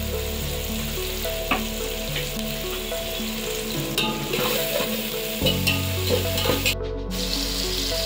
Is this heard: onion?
yes